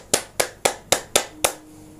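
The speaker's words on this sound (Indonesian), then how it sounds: "Melambai, tepuk tangan." Six sharp, evenly spaced hand claps ring out close and loud, then stop, leaving a faint hum behind.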